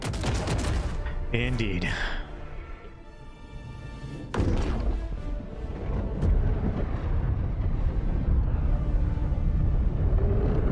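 Direct fire strike in Helldivers 2 lands as a run of heavy booms and gunfire-like bursts, loud and sustained, with a player's voice talking over the blasts.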